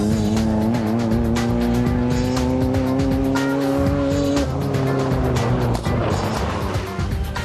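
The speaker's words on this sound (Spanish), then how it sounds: "en esta carrera campo a través participan anualmente más de 200 coches procedentes de todo Estados Unidos" Volkswagen Baja Bug cars race in a large off-road event. Engines drone and rise in pitch, with tire-squeal and skidding noise, loud and continuous through the clip.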